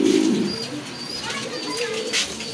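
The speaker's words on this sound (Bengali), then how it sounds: "খুবই সুন্দর কোয়ালিটি ফুল কবুতর" Pigeons at a bird market coo nearby in low, throaty, rolling calls, with faint chirps and background chatter from people around them.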